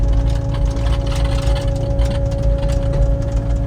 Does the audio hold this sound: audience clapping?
no